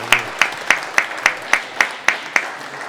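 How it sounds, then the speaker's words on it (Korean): Applause during a church service, heard as single, evenly spaced claps, about nine in a slow steady rhythm, close and fairly loud. "이 박수 소리가 뭐지?"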